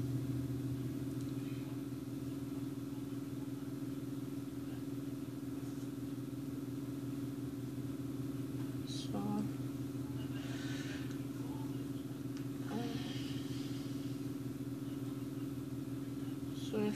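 Steady, droning truck engine hum in Euro Truck Simulator 2 while cruising at a constant low speed, continuous and unchanging with a few faint clicks and brief noises over the top, no talking.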